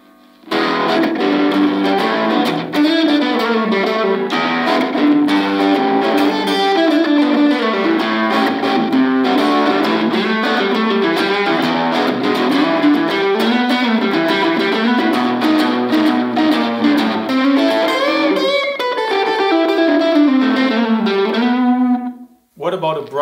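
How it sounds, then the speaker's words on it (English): A bright, crunchy distorted electric guitar through a very small amp plays a continuous riff with a short delay echo trailing each note, loud and steady, ending abruptly. "What about a really bright, crunchy sound with even shorter delay?"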